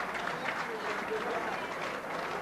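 A crowd at a 1991 darts exhibition in a Townsville darts hall applauds steadily in a continuous wash of clapping, fairly faint and distant, for a couple of seconds.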